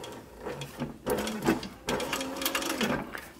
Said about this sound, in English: Do my back stitching